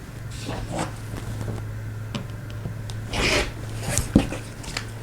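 Scissors or a rotary cutter slice through quilting fabric in short, soft scraping strokes nearby, with light handling rustles in between and no talking.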